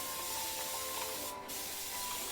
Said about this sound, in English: So we're gonna spray the water.